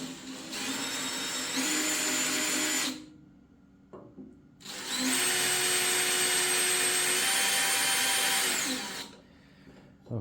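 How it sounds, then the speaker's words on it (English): A power drill with metal bits bores pilot holes through a steel tractor bucket, whining loudly in two long sustained bursts separated by a short pause. "with all metal bits, that was probably a little bit too fast, so we're just going to drill through nice and slow."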